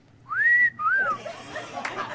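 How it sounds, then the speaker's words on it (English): A person gives a suggestive two-note wolf whistle, alone and close. A rising then sustained tone breaks briefly and is followed by a shorter falling note, then faint background murmur. "Who does suggestive whistling?"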